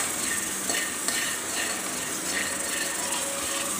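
Peanuts dry-roasting in a pan are stirred with soft scraping and light rattling, close and fairly quiet over a steady hiss.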